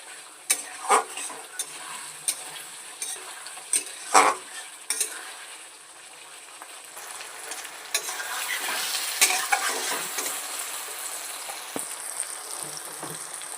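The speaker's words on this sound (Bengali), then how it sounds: "টমেটো কটাকে ভেতরে দিয়ে দেবো দিয়ে আমি আর একটু সুন্দর করে কষিয়ে নেব যেন তেল ছেড়ে দেয়" Chopped tomatoes fry in oil for aloo dum, with a quiet continuous sizzle and sharp intermittent scrapes and clinks of a spatula stirring the pan.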